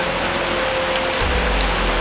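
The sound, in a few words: rain falling at night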